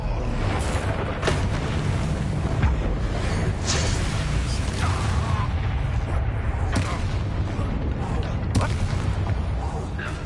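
A Confringo fire-blast spell explodes amid Hogwarts Legacy combat, with booming blasts and crackling impacts layered over a dense, loud battle mix where a voice calls out spells.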